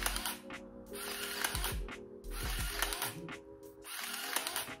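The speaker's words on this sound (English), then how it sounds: "I will say one thing is that the shutter is quite loud" A loud mechanical camera shutter fires several times in short bursts, each release sharp and clattering close to the mic against a steady background hum.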